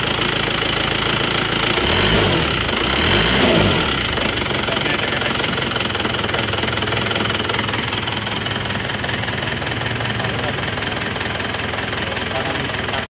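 Motorcycle engine fitted with a custom cast cylinder liner and old shock absorbers, revving loudly and continuously up close, with a steady rough running tone and a brief rise in revs early on.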